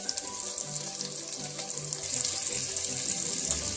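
Bacon fries in a skillet with a steady hiss and crackle, a close and continuous sizzle that grows a little louder partway through.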